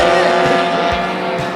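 Race cars, a Mazda Miata and a BMW E36, running side by side at an eight-hour endurance race in the Philippines, a loud continuous engine roar with a faint voice underneath.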